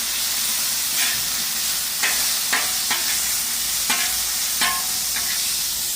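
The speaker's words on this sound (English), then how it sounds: "Smell that garlic going now. Give it a little soy sauce." Garlic fries with soy sauce on a Blackstone griddle in a steady, close sizzle and hiss, punctuated by several light scrapes and taps of a spatula against the flat top.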